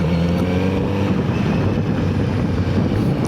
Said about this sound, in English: this exhaust sounds really nice out of the box